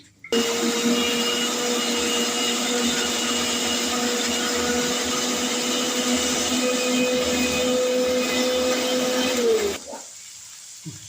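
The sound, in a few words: mixer grinder blending spinach paste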